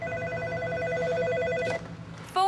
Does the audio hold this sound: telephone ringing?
yes